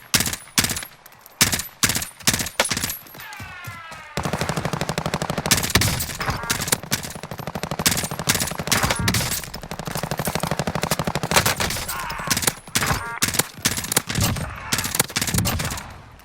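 Rapid bursts of automatic gunfire and single shots from a shooter video game, loud and close, firing in repeated volleys with short pauses between them throughout.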